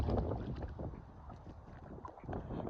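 Outdoor wind gusting steadily across open country, a low, continuous rumbling rush buffeting the microphone for the whole stretch, with no voices.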